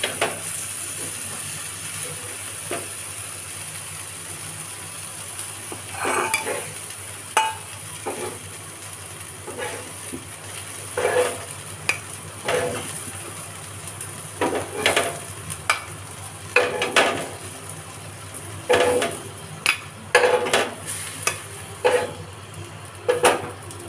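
Eggplant slices fry in a pan with a steady hiss of hot oil, broken by clattering knocks and scrapes of a spatula turning them, close and fairly loud, with no voices.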